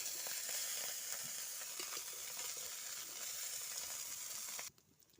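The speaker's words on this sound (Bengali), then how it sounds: "এক পিট ভাজা হয়ে গেছে লাল লাল করে ভেজে নিতে হবে" Small mourala fish fry in hot oil in a wok, giving a loud, dense, steady sizzle with faint crackles close by. The sizzle cuts off abruptly just before the end. No one speaks.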